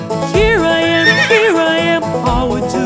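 A whinnying horse neigh sung or produced within a children's finger-family song, rising and falling in a warbling call over steady music, clear and loud.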